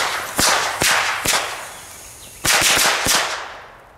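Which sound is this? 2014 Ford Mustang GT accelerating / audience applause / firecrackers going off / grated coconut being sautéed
firecrackers going off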